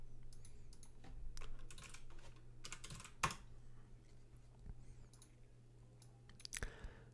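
A password is typed on a computer keyboard, with quiet, uneven clusters of key clicks and one sharper tap partway through, over a faint steady electronic hum.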